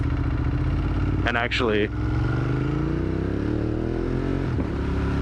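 A Ducati Monster 1200S motorcycle engine runs steadily through a New York City ride, with a loud continuous drone and a brief rise in pitch near the middle, while someone talks briefly over it.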